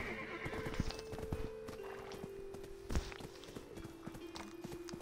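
A horse in the online role-playing game Black Desert neighs loudly while its hooves clip-clop at a walking pace over a steady background tone, fairly quiet overall.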